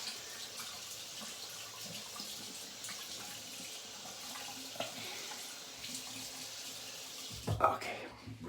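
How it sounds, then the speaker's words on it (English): Tap water runs steadily into a sink as alum is rinsed off after a shave, a constant moderate splashing hiss that ends in a brief louder clatter near the close. "Okay, rinse the alum off."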